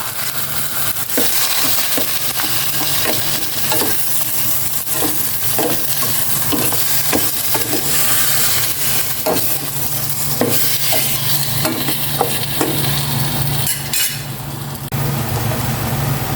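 Pork sizzling and frying in a pan for Filipino sinigang, a loud continuous hiss with crackles and occasional clinks of stirring close by.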